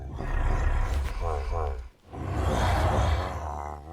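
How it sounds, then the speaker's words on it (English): Deep, throaty monster grunts and snarling roars in Minecraft, with an undertone of honking, loud and close, in two long bursts separated by a brief pause. "listen to those grunts and roars."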